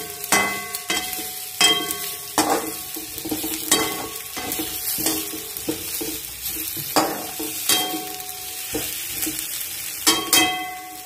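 Masala being sautéed in a pan for stuffed brinjal gravy, sizzling steadily while a spoon scrapes and stirs in repeated sharp strokes. The sound is close and clear, and nobody speaks.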